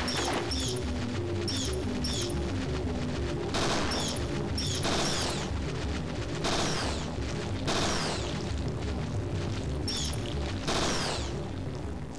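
Handgun fire in the Parasite Eve 2 video game, aimed at attacking bats inside an abandoned house: repeated sharp shots in bursts over a dense, loud game soundscape with music, no talking.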